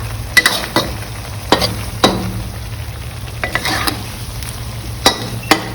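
Fish stir-fried with red curry paste in a hot pan, a steady loud sizzle broken by sharp scrapes and clanks of a utensil against the metal as the food is turned.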